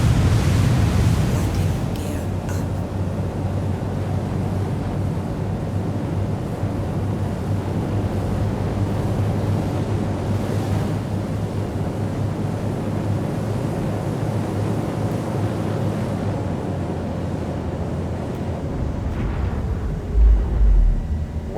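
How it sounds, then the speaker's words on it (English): Loud, steady engine roar from a Cutlass spaceship in the video game Star Citizen, a continuous low rumble and hiss that holds for about twenty seconds without talk. "wow, those engines are loud."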